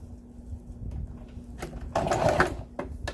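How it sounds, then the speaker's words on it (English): A sewing machine stitches faux leather in short, close bursts of mechanical whirring and clatter, with a steady hum underneath and brief pauses between runs. "I'm going to start a little bit down because I want it to be able to backstitch"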